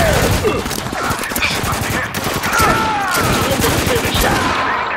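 Heavy gunfire in the desert war game Spec Ops: The Line, loud dense bursts of rifle and machine-gun shots with frequent rapid cracks, mixed with shouting voices.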